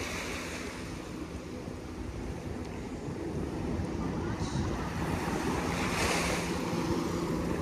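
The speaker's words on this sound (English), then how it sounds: "Come in, you waves." Ocean surf washing up on a beach at Avon-by-the-Sea as the tide comes in, a steady broad roar of breaking waves with wind buffeting the microphone throughout, swelling slightly louder toward the end.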